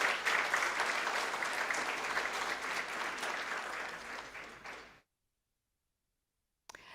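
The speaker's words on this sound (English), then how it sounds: "Let's give them one more round of applause." Applause at a school board meeting, dense and loud clapping from a crowd that fades out at around five seconds, followed by silence and a brief sound near the end.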